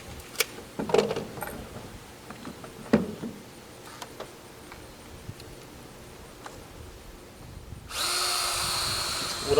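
A power drill with a 1/2-inch bit boring a hole for a wild boar trap, heard as a few scattered knocks and clicks before a steady, fairly loud whir of the drill running continuously near the end.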